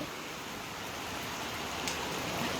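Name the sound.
heavy rain with wind in Dhaka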